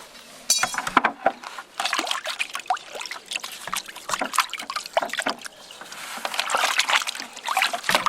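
A rusty Borgeson steering shaft from a 1979-93 Fox-body Mustang being rinsed in water gives close, uneven splashing and sloshing in short bursts that keep going throughout, with no talk.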